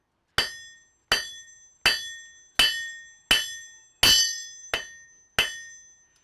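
Blacksmith's hammer striking hot metal on an anvil in a smithy, shaping a spade; eight loud, ringing metallic blows fall at a steady rhythm, each with a bright clang that decays quickly, close and clear with no talking.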